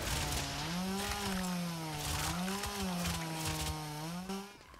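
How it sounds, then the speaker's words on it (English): Chainsaw in the zombie game ZedFest, revving with a wavering engine whine that rises and dips in pitch, loud and close, with sharp hits and crunches breaking in, alone without talk. "thank god this freaking chainsaw is like unlimited."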